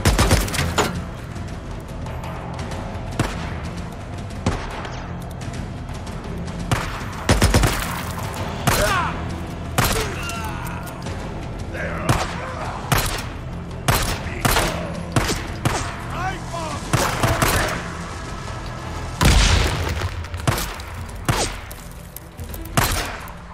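Gunfire in the Days Gone game: repeated loud shots and rapid bursts crack out irregularly over a rumbling background, with a few heavier thumps.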